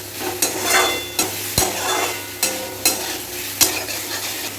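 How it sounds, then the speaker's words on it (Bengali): Boiled eggs and potatoes are stirred into spice paste in a hot pan, with a spatula scraping in a quick, regular rhythm over a constant sizzle, close and fairly loud. "ডিমগুলোও দিয়ে দেবো মশলার সঙ্গে একটু ভালো করে মাখিয়ে নেবো ডিমগুলো"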